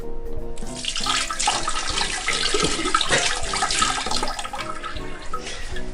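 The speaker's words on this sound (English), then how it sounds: "pour the cod liver oil over to wash it" Cod liver oil is poured over tomatoes as a wash, giving a steady splashing, running-liquid sound like a tap filling a sink that lasts the whole stretch, loud and close.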